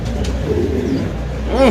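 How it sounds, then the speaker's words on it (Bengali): A pigeon at a pigeon farm gives a short, close coo near the end of a brief stretch of low background rumble. "পাঠান সাইজের একজন কবুতর"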